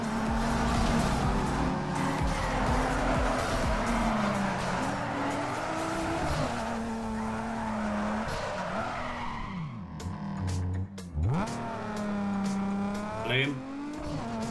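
Race car in Need for Speed Underground 2 drifting, its engine roaring under sustained tire screech, followed by gear shifts and sharp squeals near the end, loud and close.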